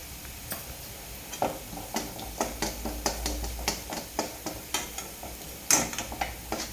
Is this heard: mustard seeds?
yes